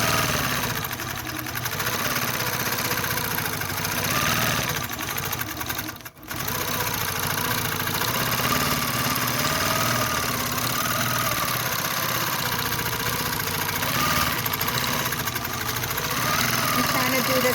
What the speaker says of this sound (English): You want to start your machine, and then you just move your machine like you're quilting